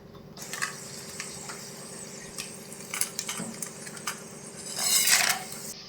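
Whole spices such as cardamom and bay leaves dropped into a cup of hot oil for chicken biryani, giving a steady soft sizzle with scattered light clinks and a brighter burst of frying near the end, with no talking.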